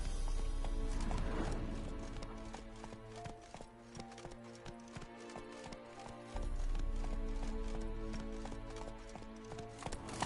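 Horse galloping in The Witcher 3, a steady rapid clip-clop of hooves, loud and close, with a whinny and a rumbling surge partway through.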